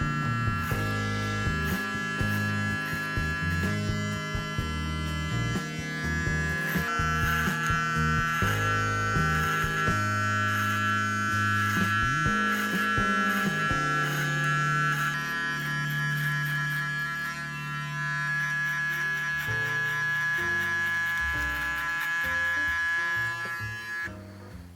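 A Panasonic electric beard trimmer on its lowest setting cuts through a full beard with a steady, close, tonal motor buzz that shifts in pitch and load as it moves, with no talk.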